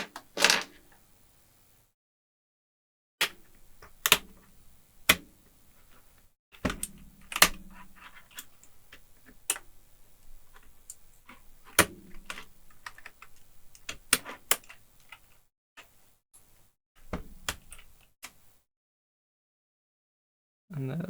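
Plastic clicks, snaps and scrapes from prying the spacebar off an RGB mechanical keyboard during a repair, a run of sharp close taps and cracks with short pauses, no talking.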